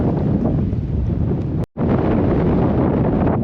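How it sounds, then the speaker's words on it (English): Wind gusting at a hilltop castle in Playa Blanca, Lanzarote, buffeting the microphone with a loud, rough, continuous roar that briefly cuts out near the middle before resuming, with no talk. "It's a little bit blowy up here."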